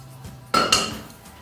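Crushed lemons drop into a container of cherry lemonade, landing with two quick, close clinks in a row against a low background hum.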